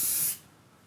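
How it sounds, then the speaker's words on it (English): A disinfectant aerosol spray can releases a single loud, bright hissing burst that lasts about a third of a second. It cuts off sharply, leaving a quiet room tone behind. "When I hit the button or press the button, that disinfectant spray is aerosolized."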